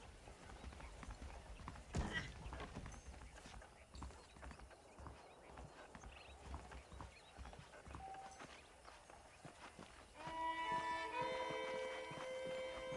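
Horse hooves in the video game Red Dead Redemption clip-clop steadily at a walking pace, close by, with rustling background, then a musical tone joins near the end.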